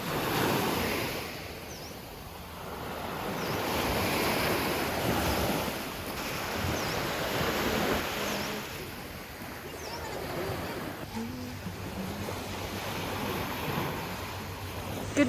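Ocean waves wash onto a beach on Koh Tao, a continuous rolling surf roar with wind buffeting the microphone and a voice talking faintly beneath.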